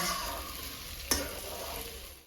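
Mushroom masala is frying in a pan and being stirred, a steady close sizzle of oil with one sharp scrape or clack of the spoon partway through, and no voices.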